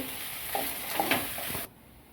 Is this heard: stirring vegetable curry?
yes